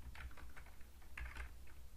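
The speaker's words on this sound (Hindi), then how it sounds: "यहाँ पे हम टाइप करेंगे" Keys click on a computer keyboard while HTML code is typed, a quick, uneven patter of soft taps close by in a quiet room.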